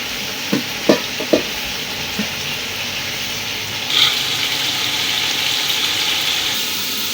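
Peas and carrots tipped into a pan of potatoes for vegetable pulao, giving a few sharp clatters at the start, then a steady close sizzle of frying with stirring sounds and no talking.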